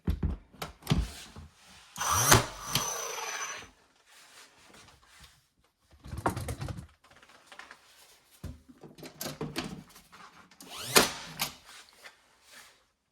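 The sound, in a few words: power tool fastening parts during bar renovation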